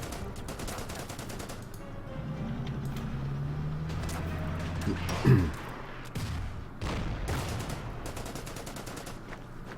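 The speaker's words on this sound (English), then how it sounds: "Just take a shot at that with the Panzer IV." Panzer IV tank firing in the strategy game Order of Battle, set in the Ardennes offensive, with a rumbling engine-like drone, a sharp loud shot midway and scattered rapid gunfire bursts around it.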